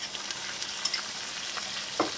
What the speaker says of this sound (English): add the ground korma spices into the pan and stir everything together